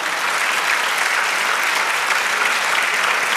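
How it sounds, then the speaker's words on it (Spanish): A church congregation applauds steadily, a dense, loud and even wash of clapping that carries unbroken to the end with no voices over it. "démosle un aplauso al Señor"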